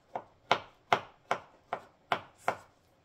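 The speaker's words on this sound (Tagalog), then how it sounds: "ang hiwa ng mushroom, maninipis din na maliliit parang sibuyas" Mushrooms being cut into thin small squares on a board, seven crisp, evenly spaced knife chops in a steady rhythm, close and clear with no talking.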